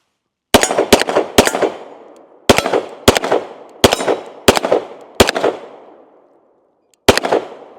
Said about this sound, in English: Let's go ahead and take our final shots with it today on the range.